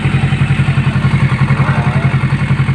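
A Kawasaki Ninja 650 fitted with a Daeng 4 muffler idles loud and close, its exhaust giving a steady, deep, pulsing throb with an even beat and a grainy rasp above it.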